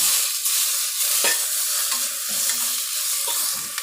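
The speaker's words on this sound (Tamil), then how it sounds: "இப்போ தக்காளி போட்டு நல்லா வதங்கிடுச்சு." Tomatoes sautéing in hot oil for a broad bean gravy, with a steady loud sizzle and frying hiss close by and occasional spoon stirring scrapes throughout.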